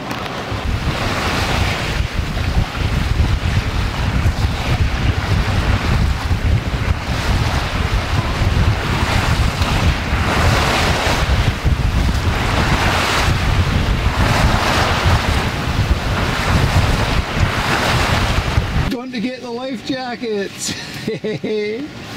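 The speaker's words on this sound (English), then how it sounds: "we got a bit more wind at last. We're beginning to move." Heavy wind buffets the microphone while waves rush and slap against a sailing yacht under way off Orkney, a loud, continuous roar with surging swells, ending in a few seconds of clearer, quieter water sounds.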